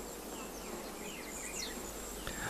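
Oil-collecting bees fly around Stigmaphyllon flowers in hectic maneuvers, producing a continuous soft, high buzzing that shifts in pitch as individual insects dart close and away, quiet and steady throughout.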